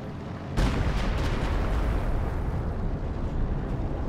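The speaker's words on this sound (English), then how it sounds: "he's shooting the howitzer" A howitzer fires in Company of Heroes 2, a single heavy boom bursting in suddenly and then a long, loud rumbling roar that slowly decays, with no talking.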